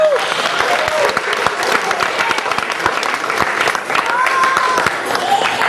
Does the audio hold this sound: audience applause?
yes